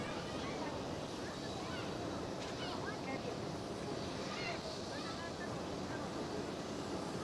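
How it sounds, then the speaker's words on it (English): Airliner taking off from runway 18 left at Schiphol Amsterdam, a distant, broad engine roar rising over steady wind noise, heard from afar and fairly faint. "lined up on runway 18 left right now, taking off"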